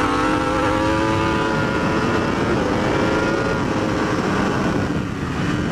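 Yamaha R1 superbike (2015 or later) pulling hard on the throttle at a race track, a loud, steady engine roar with rising harmonic tone that holds close and constant throughout, no talking.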